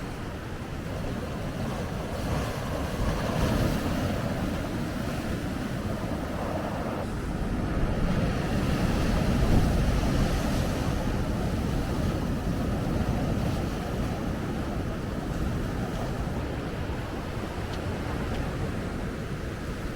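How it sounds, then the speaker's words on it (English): Sea waves break on a coast on a windy morning: a continuous, full roar of surf and rushing water mixed with heavy wind buffeting the microphone, swelling slightly in the middle. "Here comes a bit of a wave now."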